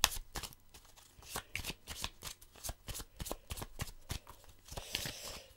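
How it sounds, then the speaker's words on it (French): Tarot cards being shuffled close up, with repeated riffling and sliding bursts in an uneven rhythm, fairly quiet and with no talking. "on mélange nos cartes"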